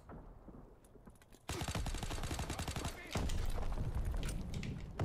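Sniper and rifle gunfire in Call of Duty: World at War, dense rapid bursts of shots from about a second and a half onward, loud and continuous, with someone talking over the combat.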